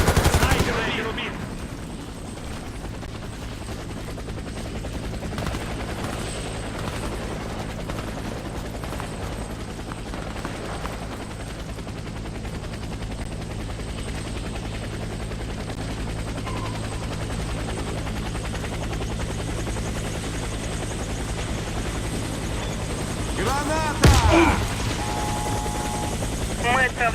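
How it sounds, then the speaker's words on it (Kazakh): A helicopter's rotor and engine drone on steadily in the shooter game Warface, a loud continuous whir lasting throughout, with a burst of gunfire near the end. "Вертолет доставит вас на базу."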